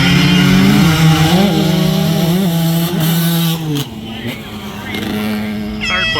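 Side-by-side race vehicles roar at the Russell County Fair 2023, engines revving loudly with pitch rising and falling. The sound drops away partway through before other engines build again in the distance.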